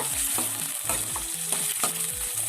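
Small onions sauté in hot oil for a jackfruit curry, a bright continuous sizzle with rhythmic scraping stirs of a spoon in the pan, close and fairly loud with no talking.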